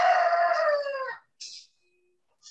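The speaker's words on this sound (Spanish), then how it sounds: "¡El gallo!" A rooster crows loudly and near for about a second, its long harmonic call fading, then brief hissy noises follow with silence between.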